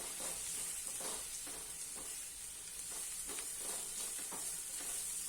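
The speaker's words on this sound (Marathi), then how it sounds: "त्यानंतर हा कोबी. आता हे सगळं ढवळून घेऊया." Green chili, capsicum and cabbage stir-frying in a pan for wheat-flour noodles, a steady close sizzle with repeated scraping stirs of the spatula and no voices.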